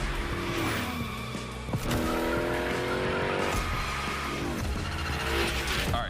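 Tires squeal and skid as a Unicorn car slides through a gymkhana course in The Crew Motorfest, long screeching slides over a steady engine roar, close and loud throughout.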